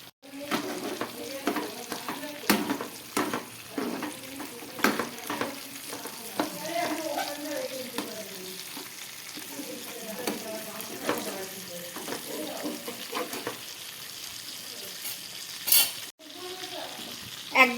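Fish and a few pieces of ridge gourd frying in a pan for a thin fish curry, with a busy close sizzle, repeated stirring clatter and sharp spatula knocks, and faint voice at moments.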